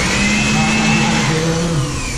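An air blower roars steadily up close, drying a freshly washed bicycle in a bike shop, a loud continuous whoosh with a faint shifting tone and no talk.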